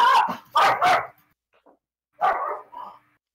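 A dog barks loudly and close by, three quick barks, then a pause and two more, with silence between the bursts.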